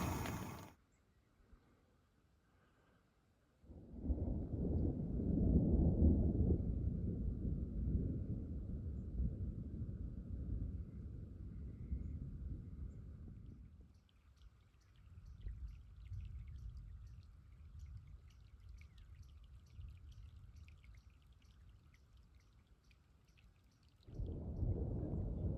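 A mountain thunderstorm in the Desolation Wilderness near Gilmore Lake and Mount Tallac, with a deep rolling rumble of thunder that swells, fades, then returns near the end, plus faint light patter between rolls.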